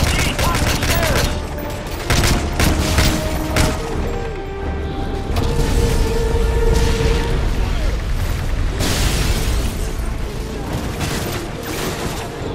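In a Modern Warfare 3 firefight, rapid gunfire rattles in dense bursts while RPG explosions boom heavily, loud and close, with shouted voices breaking through the continuous chaos of combat.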